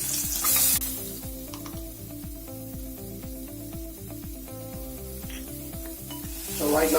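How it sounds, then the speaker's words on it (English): Finely chopped onions fry for a momo filling, giving a steady close sizzle throughout with a regular rhythm of scraping stirs. The sizzle swells briefly at the start and again at the end. "right now I'm going to add the finely chopped onions"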